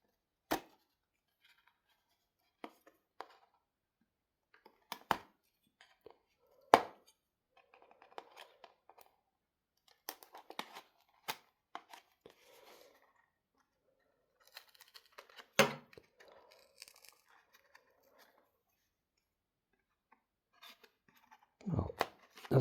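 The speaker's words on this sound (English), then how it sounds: "Let's try to use the scissors." Scissors cut open the packaging of a Ugreen USB-C to 3.5mm AUX adapter cable, giving scattered sharp snips and crinkles with quiet pauses between them and a louder burst of handling at the end.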